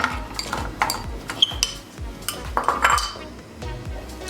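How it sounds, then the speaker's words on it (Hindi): Dried plums, around 100 grams of aloo bukhara, tipped into a frying pan for chutney, heard as irregular clattering, clinking and knocking of fruit and utensil against the metal pan, close and fairly loud, with no talking. "फ्राई पैन में ये ऐड करेंगे।"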